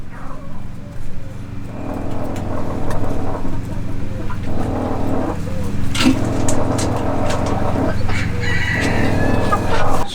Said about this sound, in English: 17 animals, 2 roosters, 15 hens.